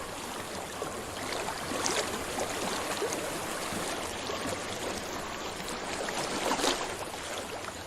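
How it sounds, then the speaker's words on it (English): Flowing water in the video game Hellblade: Senua's Sacrifice, a steady rushing, trickling stream that stays fairly constant throughout with slight swells, heard alone without speech. "I hear water."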